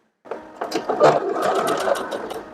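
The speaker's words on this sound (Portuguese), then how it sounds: "Agora eu vou lá na máquina costurar." A sewing machine stitching a lined child's dress with a ruffled yoke, a steady close whirring run that starts abruptly and continues without talk.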